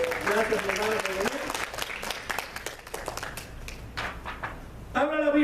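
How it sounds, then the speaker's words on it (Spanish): A church congregation at a Spanish-language service claps for a first-time visitor, a burst of mixed handclaps that rises and falls while voices talk over it at the start and again at the close. "denle un fuerte aplauso a ella"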